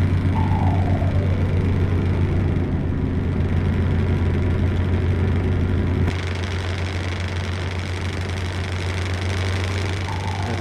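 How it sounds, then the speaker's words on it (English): A heavily loaded Scania truck engine in Euro Truck Simulator 2 drones steadily as it climbs a steep hill, with a loud, constant low rumble that continues without a break. "We are heavy loaded. You can hear that on the engine, because it is quite steep uphill here."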